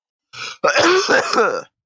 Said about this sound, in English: that was a very aggressive cough